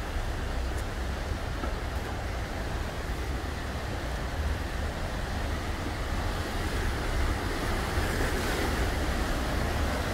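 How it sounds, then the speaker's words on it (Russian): The Dodot waterfall on the Khamsara river, a broad, continuous roar of falling water with heavy low rumble and a hissing spray on top, steady and loud from start to finish with no voices. "вот он, водопад Додотский"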